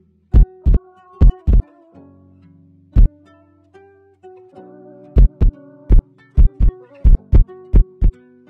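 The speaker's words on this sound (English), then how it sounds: "We're gonna look for 808." 808 bass drum hits in a trap beat built in FL Studio Mobile, deep booming kicks with long tails in an uneven sequence over a low sustained bass tone.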